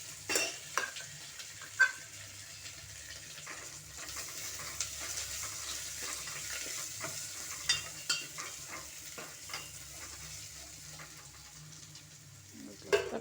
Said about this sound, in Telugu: కొంచెం వేగుతుంది తొందరగా.